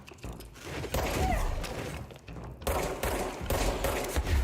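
Gunfire in the video game Control rattles out in dense, loud bursts of rapid shots with short gaps between volleys, and a short high whistle sounds among them.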